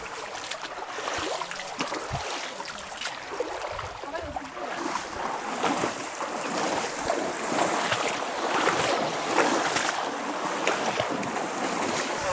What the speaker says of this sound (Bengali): সুন্দর জলের স্রোত আছে